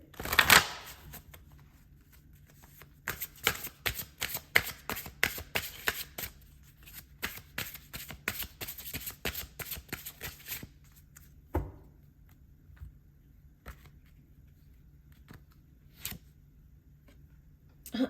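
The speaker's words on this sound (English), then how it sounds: "So let's pull some final cards here." A deck of oracle cards being shuffled by hand, close and crisp, in dense rapid riffling bursts for about ten seconds, then a few sparse single card snaps and taps in near silence.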